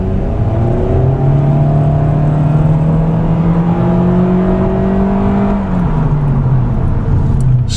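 A 2016 Scion iM, a Corolla-based hatchback, drives on the road with a steady, loud engine drone that rises and falls smoothly through the gears. Road and tire noise run under it, and no one speaks.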